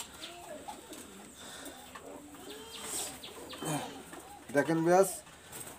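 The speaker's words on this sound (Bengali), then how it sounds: "কারণ এটা ব্রিডিংয়ের কবুতর" Breeding pigeons coo in soft, throaty calls that rise into a louder burst near the end, with someone talking over them.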